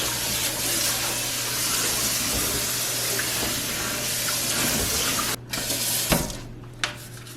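Tap water runs steadily into a kitchen sink as it is rinsed, a constant broadband splash that briefly cuts out and resumes near the end, with a few clunks and drips.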